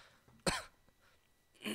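One sharp, sudden cough from a scratchy throat, close to the microphone, followed by a second rougher throat-clearing burst a moment later, against quiet background.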